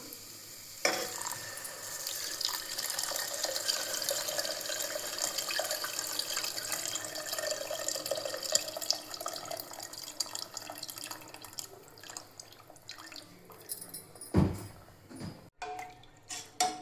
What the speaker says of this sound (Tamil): லெமன் சைஸ் புளி நம்ம கரைச்சி வச்சுருக்கோம் அதை நம்ம ஊற்றிக்கலாம்